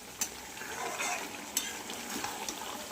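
Chicken kasa fries in a pan with a soft, steady sizzle, broken by two sharp scrape-clicks of stirring. Short and fairly quiet, with no talk.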